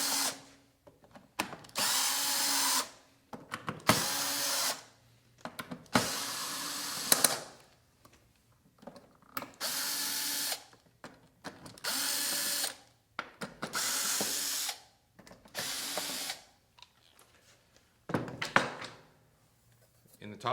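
A cordless power drill spinning screws out of a Masonite adjustable threshold rail, in repeated whirring bursts of a second or two separated by short pauses, close and steady, with a voice talking in between.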